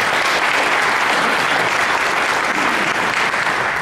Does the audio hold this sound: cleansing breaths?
no